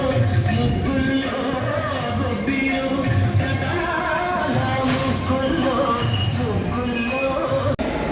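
A train shunting onto platform 3 at a station, its wheels squealing in long, loud, continuous screeches over a rumbling rail bed, with a brief sharp click near the end.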